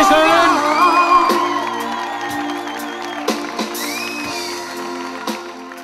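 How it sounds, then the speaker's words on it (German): Audience at a regional singing talent contest cheering and whooping after a performance, with scattered claps and shouts that fade slowly over several seconds. "Applaus bitte"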